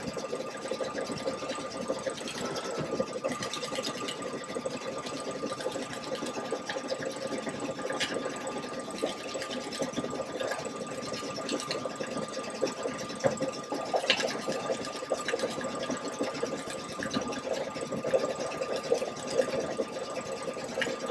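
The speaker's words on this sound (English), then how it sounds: "And we'll go ahead and let this stitch for a while." A sewing machine runs a triple stitch on a Thanksgiving hot pad, a steady, even whirring hum that continues unbroken at moderate volume with no talking.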